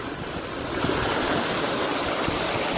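Heavy rainwater rushing across a flooded village farm field after a downpour, a continuous broad wash of flowing water, moderately loud and steady with occasional splashes, no voices.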